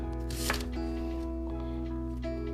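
Food is finely chopped with a knife while making pan-fried lula kebab, giving a few sharp, quiet blade strikes over a steady low background hum.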